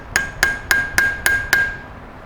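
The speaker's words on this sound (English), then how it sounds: "You're just going to use a light hammer" A light hammer taps a rivet tool to mushroom a rivet end while rebuilding a vent window on a 1960-63 Chevy or GMC truck: six sharp, evenly spaced metallic ticks with brief ringing, close and clear, no voices.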